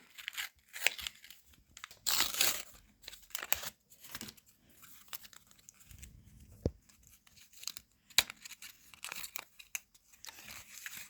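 Crinkly plastic wrappers of holiday Kinder chocolate packets are torn and rustled open in quick, irregular bursts, close by and fairly quiet, with short pauses between.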